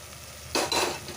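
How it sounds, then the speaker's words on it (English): Parboiled beetroot strips are stirred into masala in a pan, giving one quick scraping, sizzling stir burst over a faint background frying hiss. "And I will stir this very well too. Stir it very well."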